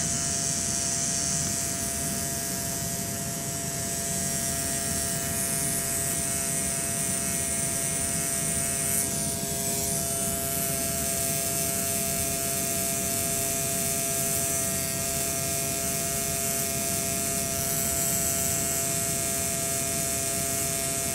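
A permanent makeup machine drives its needle into skin with a continuous, even electric buzz and a faint whine. It stays close and constant throughout, with no talk.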